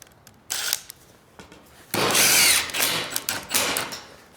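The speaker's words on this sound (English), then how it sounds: "So I'm gonna throw a screw in here." A power drill drives a screw through a washer into roof sheeting on a custom chicken coop, a short whir after a quiet start, then a longer, louder sustained whine as the screw bites, followed by a few brief bursts.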